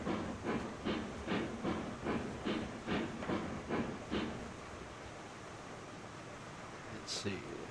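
Steam locomotive in a train video game, rhythmic chuffing hisses at a steady pace that fade into a continuous rumble, with a short high squeal near the end and someone talking over it.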